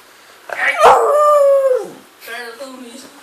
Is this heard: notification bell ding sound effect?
no